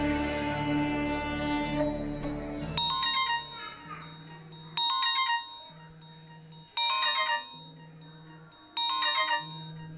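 A phone ringtone rings in four repeated bursts, each a bright chiming pattern with a low buzzing tone between rings, preceded by a short stretch of talk and background sound.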